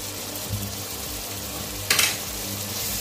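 Chopped vegetables for poha sauté in a hot pan with an even, soft frying hiss, broken by one brief louder scrape or toss partway through.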